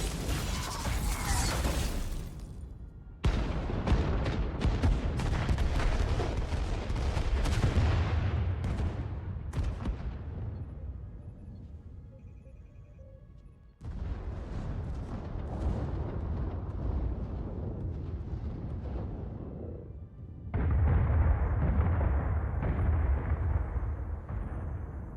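Starship weapons fire and explosions in the video game Star Trek Resurgence: several heavy, booming blasts, each followed by a long, fading rumble, loud and close.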